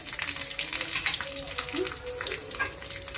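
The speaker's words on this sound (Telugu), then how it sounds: "చూడండి, పోపు వేగుతుంది." Curry leaves, mustard seeds and dried red chillies crackle and pop in hot oil, tempering for buttermilk stew, with brisk sizzling bursts and a faint voice in the background.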